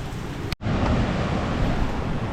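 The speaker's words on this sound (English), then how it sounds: "It's raining hard right now." Heavy rain pours down at Tanah Lot temple on the Bali coast, a dense, steady broadband hiss with a brief dropout near the start, no voices.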